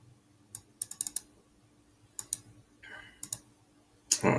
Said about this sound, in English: let me double click back on this